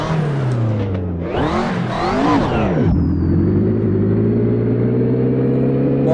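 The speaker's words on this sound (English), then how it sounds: "Engine sound is more aggressive, more" A race car engine in a racing sim video game revs aggressively with rising and falling pitch sweeps through gear changes, then settles into a loud steady drone; no voices.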